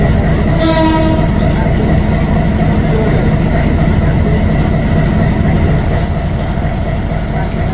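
A train rolls into a railway station on the Kaunia–Parbatipur line, its loud, steady rumble and clatter filling the scene, with a horn blast sounding near the start.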